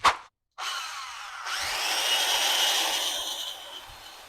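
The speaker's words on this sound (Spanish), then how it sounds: "Voy a conectar la DW352 y encenderla para ver si todo está en orden." An old DEWALT DW352 circular saw clicks on, falls silent for a moment, then spins up into a sustained high whine that holds steady for several seconds, loud and close, with no voices.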